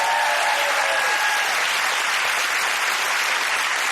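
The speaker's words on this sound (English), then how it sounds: "Round of applause, I think." A studio audience at a comedy quiz show claps in a loud, dense, even wash of applause that continues without letup.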